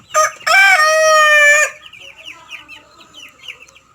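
A rooster crows once, loud and close, after a short opening cry, then hens cluck softly in a backyard flock of native, Leghorn and Giriraja chickens.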